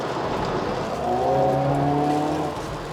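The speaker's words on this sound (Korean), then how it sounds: "단수가 내려갈 때마다 배기 사운드가 웅웅 하고 울립니다" A Hyundai Veloster N with a dual-clutch transmission, driven in custom mode, gives a deep droning exhaust boom through its downshifts, a low engine note that swells and falls as the revs change, with no talk.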